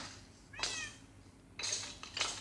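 In a Minecraft game, a cat meows a few times, two or three short, fairly close mews spaced across a quiet background.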